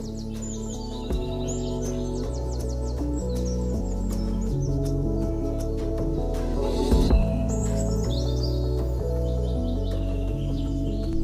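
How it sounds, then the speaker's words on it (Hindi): Birds chirp and twitter in a village forest in Bharna, the calls rising over a steady, droning musical background throughout. "चिड़ियों का चहकना"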